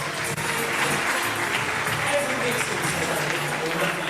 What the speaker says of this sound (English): Helen Stewart from Keighley, give her a nice round of applause.